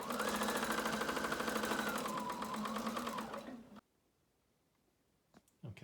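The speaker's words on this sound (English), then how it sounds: "When I go to sew, I'm going to go back and forth here a couple times, and that's going to make this extra strong" Sewing machine stitching back and forth across a fabric face mask, a loud, steady rapid mechanical whir that runs for several seconds and then stops abruptly, followed by quiet handling noise.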